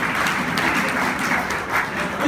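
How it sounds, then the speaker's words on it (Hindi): Audience applause for three honoured guests at a business event, a steady dense wash of clapping filling the whole stretch at moderate level with no voices on top. "मिस्टर अखिलेश सर, आशीष सर और परिवेज सर के लिए जोरदार तालियां होना चाहिए"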